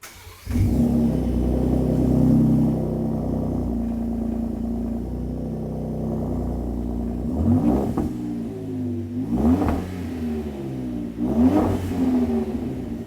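A 2017-2018 Ford F-150 Raptor pickup's MBRP 3-inch dual rear exit Street Series cat-back exhaust starts with a low rumble, idles, then revs sharply three times in spaced bursts, each climbing and falling back to idle.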